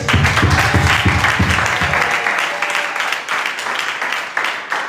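A church congregation applauds and cheers for the Lord, loud dense clapping from many hands that starts strong with rhythmic beats and gradually thins and softens toward the end, with voices mixed in.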